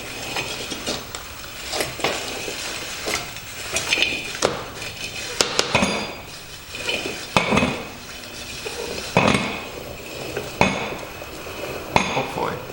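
Bolts being tightened on an old, stiff Brinly sleeve hitch disk harrow: irregular metallic clinks and knocks of tool on steel, some sharper taps, spaced out over a quiet background.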